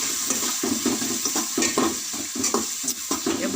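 A spoon scrapes and stirs crushed green chilies into a sizzling frying mixture in a pan, in quick rhythmic strokes over a steady hiss, close and loud with no talk.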